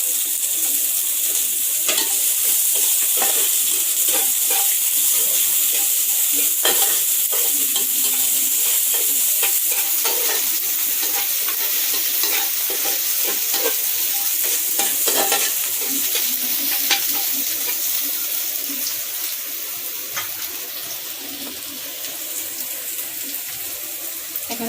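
Chopped onion frying with garlic in a pan, a steady broadband sizzle held close for the whole stretch, with scattered clicks and scrapes of stirring and a slight drop in level near the end.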